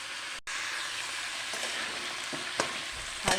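Cauliflower, beans and potatoes fry lightly in ghee in a pan for winter vegetable khichuri, giving a steady close sizzle broken by a brief dropout and a few sharp stirring scrapes near the end.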